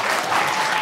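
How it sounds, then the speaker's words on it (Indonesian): A steady crowd applause at an office event fills the whole short moment at even, loud volume, with no break. "sekali lagi tepuk tangan dong"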